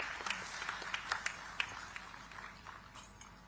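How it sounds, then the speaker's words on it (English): Applause from a summit audience welcoming a speaker in Visakhapatnam, a scattered mix of distinct claps over a soft wash, fairly faint and thinning toward the end. "Let's welcome her with a huge round of applause"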